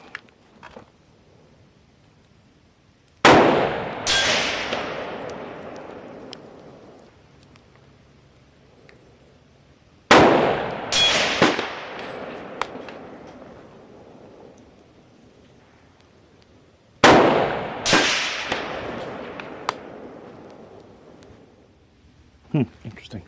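Three widely spaced rifle shots fired at a 600-yard target in wet weather, each a sharp, loud crack with a quick follow-up report and a long decaying echo, separated by quiet stretches.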